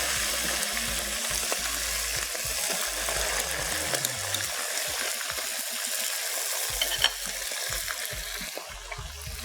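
Beef frying in a pan for Mianwali-style beef pulao, with onions turning golden, gives a steady, close broadband sizzle for the whole stretch, with faint stirring scrapes and no talk.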